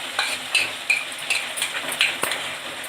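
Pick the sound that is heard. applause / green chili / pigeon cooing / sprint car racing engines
green chili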